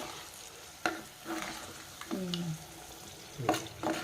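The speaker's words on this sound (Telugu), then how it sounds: "ఉల్లిపాయలు పచ్చిమిరపకాయలు. ఎర్రగా వేయించుకోవాలా?" Onions and green chillies fry in a pan for a palak tomato curry, with a low sizzle under several scraping, squeaky strokes of a stirring spoon, each short and close.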